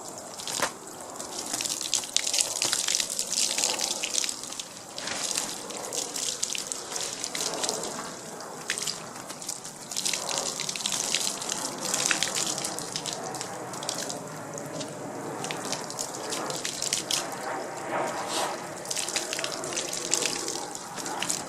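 Water is poured and splashed onto a bike cover, a steady close trickle and patter with irregular drips and splashes running the whole time, with no voices.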